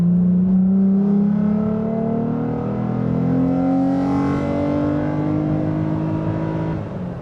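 A third-generation Toyota Tacoma with an OTT tune accelerates hard, its engine loud and close with a rising drone climbing steadily through the pull.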